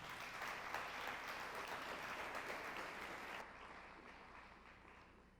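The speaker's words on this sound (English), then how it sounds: "join me in a nice round of applause for Golden Apple teacher Heidi Milner" Diners at the Golden Apple 2021 awards banquet give a round of applause for teacher Heidi Milner, a steady crowd clapping that is fairly quiet and softens toward the end.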